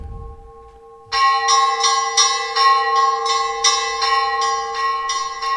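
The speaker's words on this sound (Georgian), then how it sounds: "ვინ დარეკავს ზარს?" Sebastian's church bells ring loudly and close in a quick, even series of about a dozen strikes that overlap into a resonant peal, entering after a faint steady hum.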